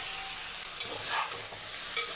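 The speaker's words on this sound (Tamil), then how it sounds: "சிக்கனை போட்டுடலாம்." Chicken pieces going into a hot frying pan for a tomato-based curry, giving a steady broadband sizzle with soft stirring scrapes throughout, close and moderately loud, with no talking.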